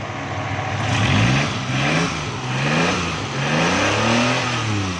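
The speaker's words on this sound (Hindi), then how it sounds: "अब माशाल्लाह दोस्तों गाड़ी बिल्कुल आवाज़ भी गाड़ी का चेंज हो गया है।" A Suzuki Khyber pickup's engine runs steadily after its gas setting is adjusted, a loud, close mid-pitched drone that rises and falls gently in a slow, rolling rhythm with no talk over it.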